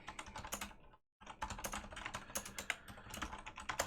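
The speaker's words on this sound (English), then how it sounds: "that some keyboard clacks for you there, Andrew Lane X?" Rapid computer keyboard typing clacks up close, a dense run of sharp keystrokes with one brief pause near the start.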